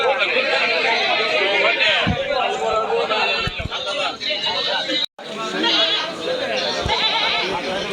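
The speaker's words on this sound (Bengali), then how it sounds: "আমরা এই পাশে কিছু ছাগল দেখাবো" Goats bleat among steady crowd chatter at a busy rural livestock market, Kalitala haat, on a rainy day. The calls rise repeatedly over the close, continuous talk, with one brief drop in the noise partway through.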